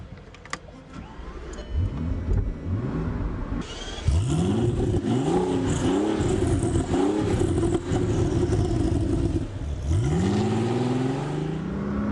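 A Volkswagen Golf W12-650 twin-turbo W12 sports car engine revving hard in repeated rising bursts, then settling into a sustained loud roar with a final climbing rev, on a former Soviet airfield.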